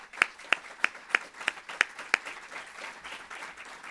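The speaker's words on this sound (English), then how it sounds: "I think we should really get them a round of applause." Applause rises at a family education day for a cystic fibrosis advisory group, with a steady run of about eight distinct, evenly spaced claps standing out over a soft bed of clapping that fades after two seconds.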